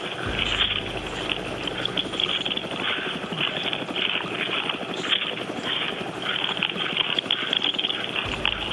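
Steady rotor throb and engine roar of a traffic news helicopter, loud and continuous throughout with a rough, choppy texture.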